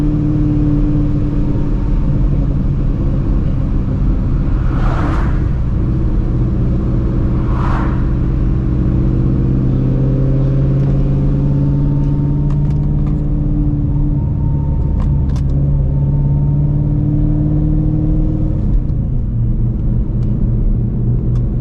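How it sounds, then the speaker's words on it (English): Steady, loud drone of a supercharged Shelby GT350 driving, its blower whine and road rumble continuous, with a couple of brief higher tones rising over it. "when I have like the back kind of blocked off, you can really hear the blower a lot more"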